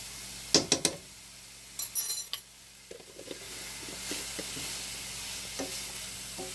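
Garlic sizzles in a pan while a utensil scrapes and clinks against the metal in a few sharp bursts, then settles into a softer, steady frying hiss with light stirring taps.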